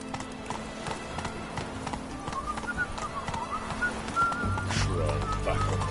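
Hooves of a horse clip-clop at a quick, steady gallop in The Witcher 3: Wild Hunt, a continuous rhythmic beat over game music and ambience, growing a little heavier toward the end.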